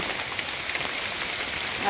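Rain falling in the countryside during a mushroom-foraging trip, a steady close patter of drops on surfaces with scattered louder hits throughout, no talking over it.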